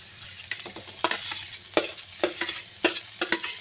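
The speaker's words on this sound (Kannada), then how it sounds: "ಈಗ ನಾವು ಸ್ಮ್ಯಾಶ್ ಮಾಡ್ಕೊಂಡಿರೋ ಆಲೂಗೆಡ್ಡೆನ ಹಾಕಿ ನೀಟಾಗಿ ಮಿಕ್ಸ್ ಮಾಡ್ಕೊಳ್ಳೋಣ" Mashed potato stirred into a sizzling tempering in a pan for potato palya, with repeated sharp spoon scrapes and knocks against the pan over a steady frying hiss, close and moderately loud.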